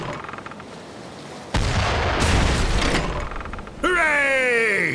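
An artillery salvo in a video game erupts as a loud, sustained roar of booming fire lasting a couple of seconds after a quieter rumble, and then a voice speaks over the fading din.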